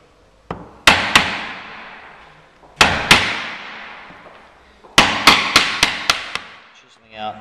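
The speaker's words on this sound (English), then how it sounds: "Chiseling out pieces" Sharp mallet blows drive a chisel into a wooden puzzle piece, coming in clusters of single knocks and quick runs of four or five strikes, each ringing briefly before fading, with pauses between bursts.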